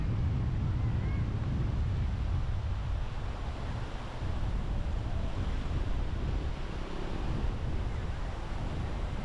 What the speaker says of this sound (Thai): ลมแรงมากๆนะครับ ดูจากต้นมะพร้าว ก็จะเห็นว่า ลมแรงมากจริง